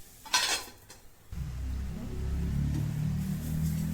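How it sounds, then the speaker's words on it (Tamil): A lid clatters onto a cooking pot of vegetables with a short metallic clink, followed by a low, steady simmering rumble from the covered pot. "வதக்கி விட்டுட்டு சிம்மில் வச்சுட்டு மூடி வச்சுடுறேன்."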